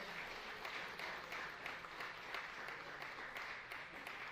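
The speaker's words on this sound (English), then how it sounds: "can we give another round of applause to Souls of Steel Orchestra?" A live audience at a steelpan orchestra performance gives a steady round of applause, dense clapping that continues throughout at moderate distance with no voices over it.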